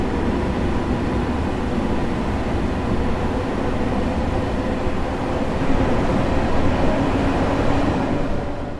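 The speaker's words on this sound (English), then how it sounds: "If you know this train, then let me know whether the sounds are accurate or not" An electric commuter train, a Class M3A or M7A in Train Sim World 2 on the Harlem Line, rumbles steadily along, a continuous mechanical hum and rolling noise that builds slightly toward the end, with no voices.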